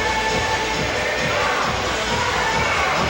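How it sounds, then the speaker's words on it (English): A crowd at a women's boxing match in the Horseshoe Casino cheers and murmurs. The noise is dense and steady, with a few shouts rising out of it, and no clear speech. "Crowd enjoying things here at the Horseshoe Casino."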